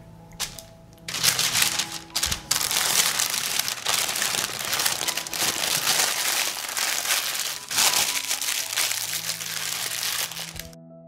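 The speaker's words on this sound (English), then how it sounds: "Wrap the cooked bacon in baking paper." Baking paper crinkling and crumpling as cooked bacon is wrapped in it, close-up bursts of papery rustling and crackling in irregular handling bouts separated by brief pauses.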